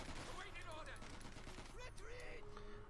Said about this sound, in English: Sten Sap machine guns up close.